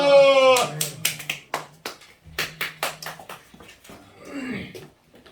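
Clapping at a Sunday church service: a voice calls out, then sharp, separate hand claps follow in a rapid rhythmic burst, pause briefly and resume in a second run before more talk.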